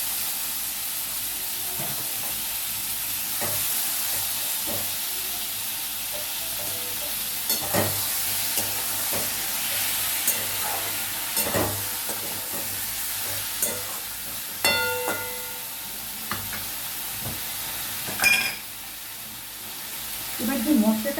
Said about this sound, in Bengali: এবার চিকেনটা দিয়ে দিলাম